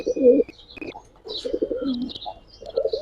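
Pigeons coo in soft, repeated low phrases from close by, mixed with a few higher chirps between the calls, in a loft holding young pairs of breeds such as Giribaz, silver Makhra and Musaldom.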